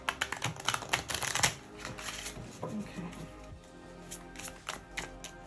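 A tarot deck is shuffled by hand in quick, crisp riffles and flutters, close and papery, with a short spoken word in between.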